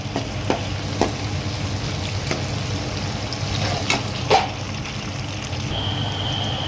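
Onions sautéing in a pan with chili powder and coriander for an egg curry: a steady, close sizzle with occasional scraping stir sounds throughout.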